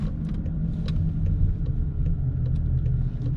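Car driving through city traffic in Nürnberg, a steady close low rumble of engine and road noise with faint ticking and clicking on top, no voices.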